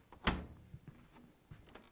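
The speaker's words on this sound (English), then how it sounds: "Let's open the door." The door of a Samsung clothes dryer is pulled open with one sharp click of the latch, then a few soft, faint knocks and rattles as it swings, heard close up in a quiet room.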